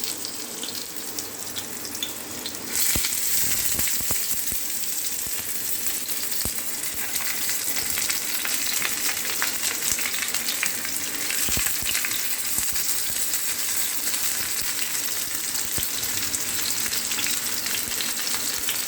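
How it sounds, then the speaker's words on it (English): Steady, loud sizzling of stuffed bitter gourd frying in hot mustard oil, continuous and close, with occasional crackles and pops and no voices. "So we will apply the mustard oil, and then we will start frying"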